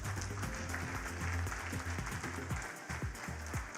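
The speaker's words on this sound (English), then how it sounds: "Another round of applause, please." An audience at the 7th Africa Emerging Markets Forum applauds, a dense, steady wash of clapping from many hands that holds at a constant level throughout, close and fairly loud, with no speech over it.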